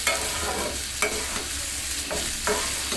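Dried churi fish sautéed in a pan, a close steady sizzle and crackle with periodic scraping stirs from a spatula, and no voices.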